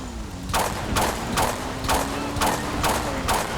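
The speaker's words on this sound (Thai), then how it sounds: "มีเสียงปืนด้านหลังนะครับ" Repeated gunshots in GTA V, about seven sharp cracks at roughly half-second intervals, fairly loud over a low engine-like hum.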